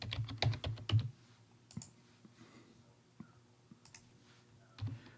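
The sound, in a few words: typing a command on a computer keyboard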